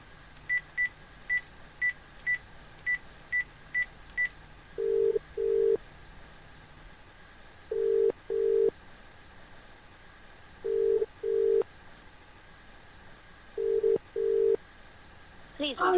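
Someone dials a telephone: a quick run of short keypad beeps, then a steady tone with evenly repeating paired ringing tones over a faint background hiss.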